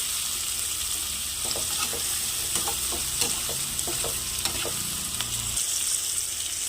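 Eggplant and tamarind leaf curry frying in a pan gives a constant sizzle, with a run of rhythmic stirring clicks and scrapes that stops near the end.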